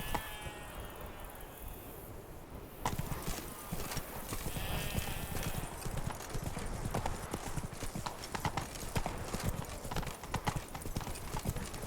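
Horse hooves clip-clop steadily on the road in The Witcher 3: Wild Hunt, Blood and Wine expansion, as Geralt's horse Roach walks along; the close, rhythmic beat grows denser after the first few seconds, with faint background ambience.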